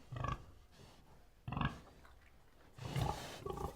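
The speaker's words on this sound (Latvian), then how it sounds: "Tad kūtī skan kvī, kvī un ruk, ruk." Domestic pig in a farm barn grunting and squealing in three loud bursts separated by short pauses, with no talk over it.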